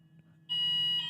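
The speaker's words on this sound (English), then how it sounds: "Fire alarm test because it's a Monday morning." A Monday-morning fire alarm test: a loud, steady electronic alarm tone cuts in abruptly halfway through and holds at full strength over a low background hum.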